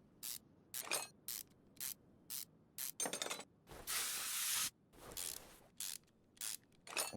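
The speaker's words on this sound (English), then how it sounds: "Don't forget to hit your WD-40 on your rusty parts." WD-40 hisses from an aerosol can onto rusty car engine parts in short, sharp bursts and one longer spray, close and fairly quiet against a near-silent background.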